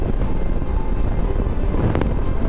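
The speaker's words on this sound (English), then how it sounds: "I'm just getting hammered by the wind." Heavy wind roar buffeting the microphone while riding east across open country during a 48-state tour, a dense constant rumble with gusty fluctuations and no talking.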